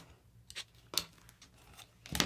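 Scissors trim squares of quilting fabric in a few short, crisp snips spaced apart, with the loudest cut at the end.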